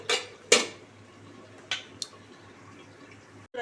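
A metal lid is set onto a pot of chital fish head curry with a sharp clank, followed by a few lighter clinks and taps against the rim, close and loud over a quiet kitchen background.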